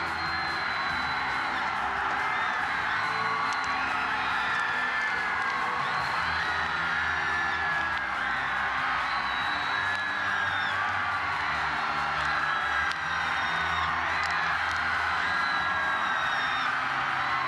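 Massed special forces soldiers shouting battle cries at an Armed Forces Day ceremony, a continuous loud roar of many voices with rising whoops, steady throughout.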